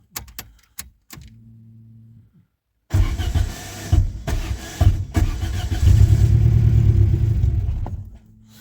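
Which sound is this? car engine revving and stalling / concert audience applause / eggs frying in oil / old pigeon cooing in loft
car engine revving and stalling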